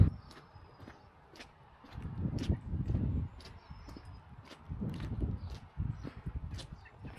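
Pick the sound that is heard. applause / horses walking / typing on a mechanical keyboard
horses walking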